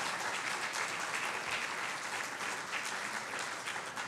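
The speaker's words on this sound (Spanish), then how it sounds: "¿Cuántos dan una ofrenda de palmas por esa declaración bíblica?" A church congregation applauds together in a sustained, dense burst of clapping, steady and fairly loud throughout with no voices standing out.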